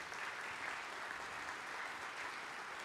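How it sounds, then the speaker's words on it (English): Soft, even applause from a church congregation honoring veterans, a continuous wash of clapping heard at a distance and low in level, with no speech over it. "Can you give them a round of applause,"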